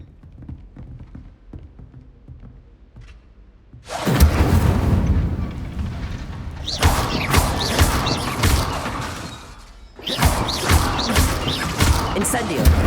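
Incendio fire spells cast in Hogwarts Legacy set things ablaze, each cast bursting into a loud roaring whoosh of flame with crackling debris, three surges following a quieter opening, while a voice talks.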